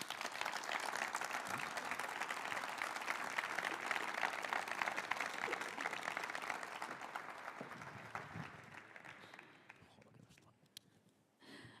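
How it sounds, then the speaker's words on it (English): A large audience at an official event for Zaragoza's European Capital of Sport bid gives sustained, steady applause that slowly thins and fades into scattered final claps. "everybody who has been involved in this project deserves an applause"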